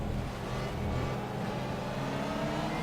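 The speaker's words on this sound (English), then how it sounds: "It sounds like a Honda engine with a massive supercharger." A Honda race car engine fitted with a massive supercharger in the racing video game Project Cars, a loud continuous engine roar and whine held steadily throughout, with no talking.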